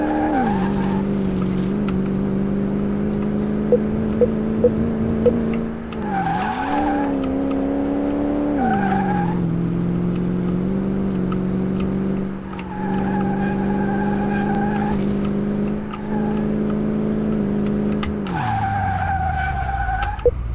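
A restored Ford Maverick in the game Car Mechanic Simulator 2018 brakes and skids, a steady engine drone broken by rising and falling revs and drawn-out tire squeals, loud and close with no talking.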